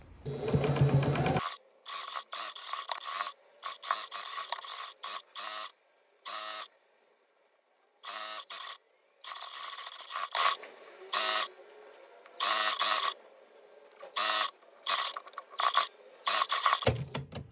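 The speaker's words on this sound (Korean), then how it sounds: "시접은 오버록으로 처리해 줄게요." An overlock sewing machine finishes the seam allowances of a blouse's joined shoulder and side seams. It runs in close, loud bursts of rapid mechanical whirring, stopping and starting repeatedly with short silent gaps between runs.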